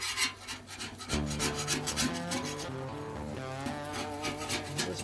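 Metal scraper dragging burnt cheese off a Blackstone griddle, a steady close rasping scrape with repeated rhythmic strokes throughout.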